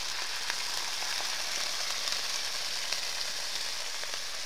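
Chopped vegetables, including mushrooms, beans, carrots and capsicum, added to caramelised onions fry on a rocket woodgas stove with a steady, dense, close sizzle throughout and no talking.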